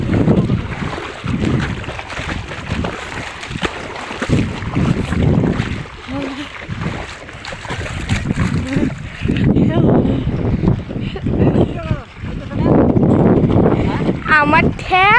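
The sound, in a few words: boat on the Jamuna river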